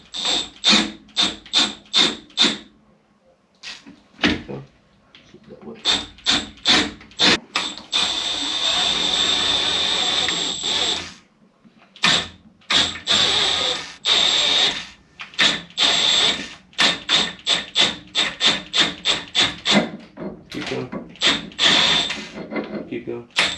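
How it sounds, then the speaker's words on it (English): A small jack lifts a Pontiac GTO crossmember into place, giving fast rhythmic ratcheting clicks in repeated runs, broken by a longer steady grinding, scraping stretch. The sound is close and loud. "we're going to jack it up with this little jack to get it into place"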